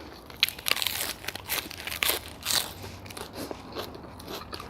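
Crisp fresh vegetables and lettuce are bitten and chewed close to the mic alongside a bowl of pork waterfall noodles with fried garlic, giving a run of sharp, wet crunches in uneven bursts with no talking.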